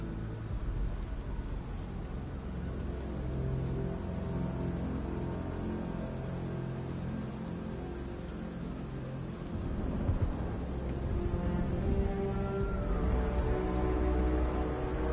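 Steady heavy rain pouring onto surfaces in Batman: Arkham Knight, with low thunder rumbling beneath and swelling louder toward the end.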